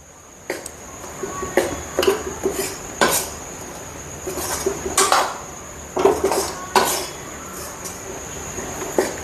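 A spoon scrapes and clinks against a pan while panjiri is mixed and dry-roasted, giving irregular bursts of metallic knocks and scraping strokes over a faint steady background, with no talking.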